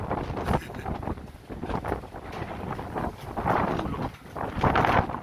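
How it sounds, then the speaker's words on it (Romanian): Strong wind blows in uneven gusts during a snowstorm, buffeting the microphone with a rough, rushing roar that swells and dips. "Ce vânt bate."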